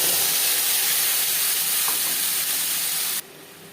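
Whole cumin seeds fry in hot oil for a Bengali bata fish curry, giving a steady, close hiss and sizzle that runs evenly, then drops abruptly to a quieter level near the end.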